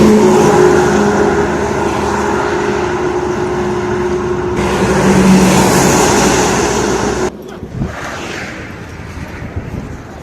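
A car drives slowly along a crowded road near a village fair, its engine a steady, loud, close drone that drops away abruptly near the end, leaving quieter traffic noise.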